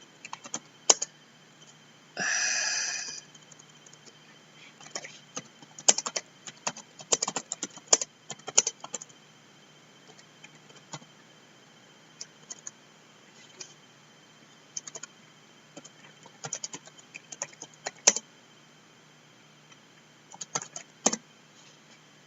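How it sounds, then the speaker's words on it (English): Keys tapped on a computer keyboard in scattered bursts of quick clicks with pauses between, close and fairly quiet, plus one brief denser rattle near the start; no one speaks. "I see what you type before you type it, Bill."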